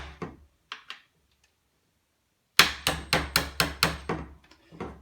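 Sharp metallic hammer taps on punches driving out the trigger group pins of a Hatsan Optima shotgun, a few light taps, a pause, then a quick run of about eight close, loud strikes.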